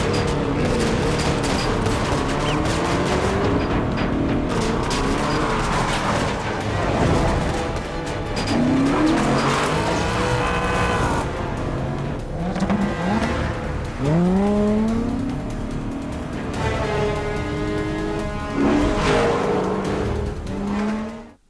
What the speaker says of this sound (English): There you saw the pride and joy of the Aston Martin firm of motor makers, a car just for Bond, the Aston Martin DB10